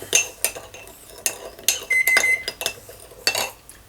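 A metal spoon stirs sugar into a lime sauce for steamed lime shrimp, clinking and scraping against the bowl in quick irregular bursts, close up and alone.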